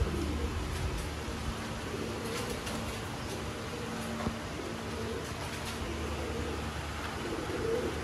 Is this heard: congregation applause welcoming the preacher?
no